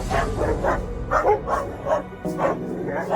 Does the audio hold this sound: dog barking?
yes